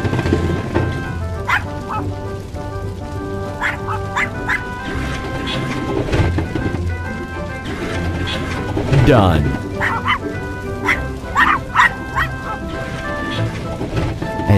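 Short, high yapping barks from a puppy repeat in bursts over a cartoonish fire-truck game soundtrack, with a voice speaking briefly.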